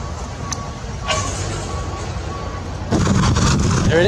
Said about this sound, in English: The lorry is leaving.